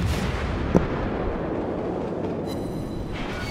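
Naval gunfire from a warship in the video game World of Warships, one sharp muffled boom standing out over a dense continuous rumble of engine and sea ambience, with faint tonal game sounds later and no talking.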